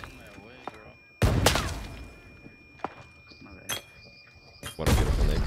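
Explosive blasts in the video game Arena Breakout, from a flashbang grenade. Two loud, sharp bursts with ringing tails stand out over quieter clicks and footsteps, and a voice speaks briefly near the start.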